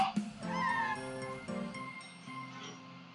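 A cat in a cat cafe gives a drawn-out, wavering meow close by, followed by softer trailing cries, with a faint jingle at the start.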